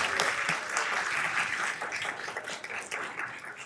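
A school board meeting audience claps in a sustained burst of applause, dense and fairly loud throughout, with the many hands merging into an even patter that tapers slightly toward the end.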